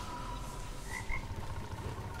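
Frog croaks from the Rek'Sai Pool Party recall in League of Legends, two short close croaks over a faint watery game ambience.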